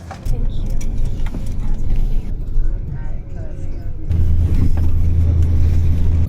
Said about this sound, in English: Back on the bus.